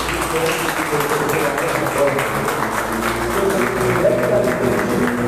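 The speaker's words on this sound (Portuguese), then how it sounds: "Vamos pôr de pé daquela linda salva de palmas para Jesus" Standing congregation giving a round of applause for Jesus at a Portuguese-language worship service, steady dense clapping throughout with voices and music tones mixed underneath.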